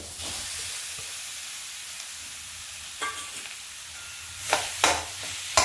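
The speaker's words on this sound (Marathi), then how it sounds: "त्याच्यानंतर आपला उकळलेला बटाटा टाकून घेतोय।" Boiled potato added to a hot pan with cumin, ajwain and coriander, giving a continuous hissing sizzle with occasional louder crackles and stirring scrapes toward the end, close up and without talk.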